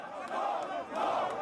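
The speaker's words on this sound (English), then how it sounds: "when the body appeared, the crowd went wild with emotion" A large crowd gathered for the arrival of politician MKO Abiola's body for burial cries out in emotional, rising and falling waves of shouting, with two swelling surges close together.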